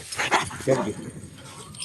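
Kangal dog, a large Turkish shepherd breed found abandoned on the street, gives a few short whimpers and yips close by, with talk and encouragement around it.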